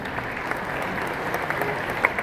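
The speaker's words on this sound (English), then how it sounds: "round of applause for Mo and the organizational team" Short burst of audience applause at the Bitcoin Miami conference, a brief, fairly even patter of many hands clapping in a large room.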